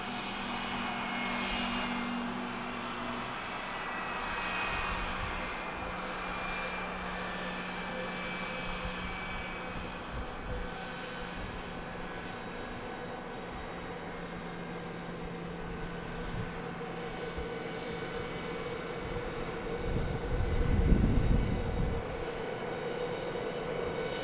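A Delta Boeing 717 jet taxis to park at Harrisburg's MDT airport, its engines whining and droning steadily at moderate distance, swelling into a louder rumbling burst near the end.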